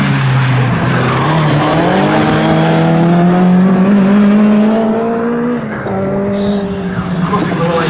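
Thunder Saloons race cars at Snetterton circuit roar continuously, with engine pitch rising and falling as they run close by, under a commentator's talk.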